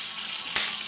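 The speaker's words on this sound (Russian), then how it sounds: "Это жарятся лепешки, ламутские лепешки по-ламутски" Lamut flatbreads fry in hot fat with a steady close sizzle, and one brief louder crackle flares up partway through. No one speaks.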